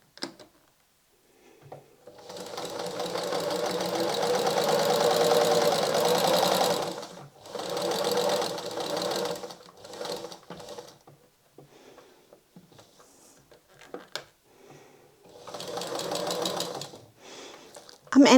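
A sewing machine stitches along the edge of a fabric square for a small advent-calendar pouch, running in several bursts of steady, fast mechanical whirring separated by short pauses.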